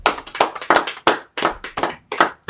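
A church congregation at a Sabbath service claps in quick, uneven bursts, several sharp hand claps in a row with short gaps between them.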